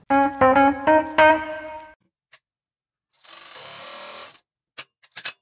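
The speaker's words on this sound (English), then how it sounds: "It's a two or three needles top and bottom industrial cover stitch, used mainly for hemming, especially knit fabric, and for covering seams." A Juki MF7923 industrial coverstitch sewing machine, a two- or three-needle hemming machine for knit fabric, stitches in short rhythmic bursts with a clear mechanical whir, then falls quiet apart from a few ticks and a brief softer run.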